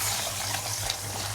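One cup of rice rinsed in water, a soft continuous sloshing and trickling wash, fairly faint and close, with no talking.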